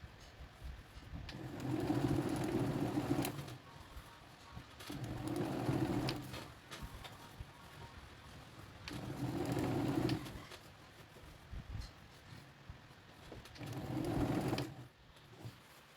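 Sewing machine stitching around a trouser waistband in four bursts of whirring a few seconds each, separated by quieter pauses, fairly faint and with no talking.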